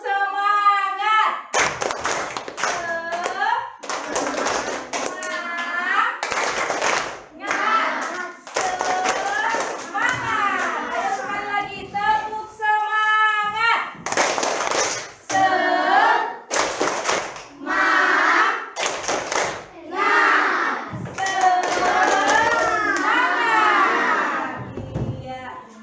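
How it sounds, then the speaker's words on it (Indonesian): Children in a classroom doing a rhythmic spirit clap: bursts of patterned clapping alternate with a teacher's voice and children's chanting, close and lively. "Nah, sekarang coba dulu tepuk semangat kita. Tepuk semangat."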